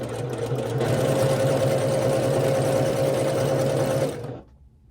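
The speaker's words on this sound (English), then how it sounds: "I'm just going to sew down, leaving my needle down and going right to the next one and just chain piecing these together" A sewing machine runs steadily as quilt squares for a Herringbone quilt are chain pieced one after another with the needle left down, a close, even motor whir holding for about four seconds before stopping.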